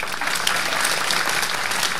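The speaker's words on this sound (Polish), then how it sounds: "Brawa." Crowd applause at a jubilee celebration event, a full, steady burst of many people clapping together, loud and close, filling about two seconds without talk.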